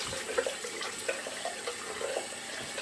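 Water runs from a tap for rinsing after a shave, a steady close hiss with small splashes throughout.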